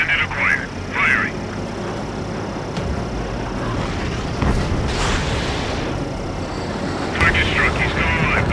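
A missile launches at an enemy aircraft during an Ace Combat dogfight: a rushing whoosh and boom over steady jet engine roar, with brief radio voices talking at the start and end.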